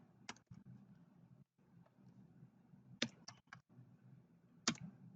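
Values being typed on a computer keyboard in a quiet room: soft, scattered key clicks in short bursts, with a few sharper taps standing out.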